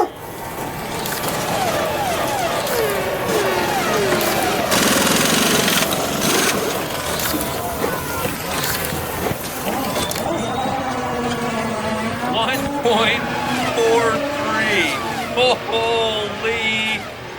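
A Viper Polymod slot car laps a track, its small electric motor whining in rising and falling sweeps as it speeds through the straights and corners, loud and close throughout.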